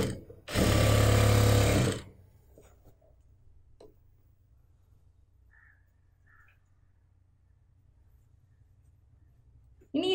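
A sewing machine stitches fabric for a churidar in one loud, fast whirring burst of about a second and a half, then stops, leaving quiet room tone with faint ticks.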